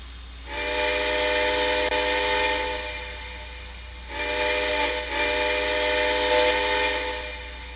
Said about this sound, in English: this one has a different whistle as well